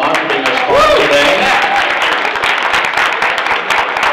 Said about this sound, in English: Let's give them a round of applause for being our sponsor today.